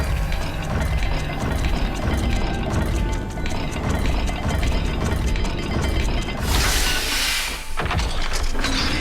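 A stone mechanism unlocks in the game Hogwarts Legacy once the matching symbols are set. Steady mechanical ratcheting and grinding runs for several seconds, then a bright hissing, crumbling rush follows near the end.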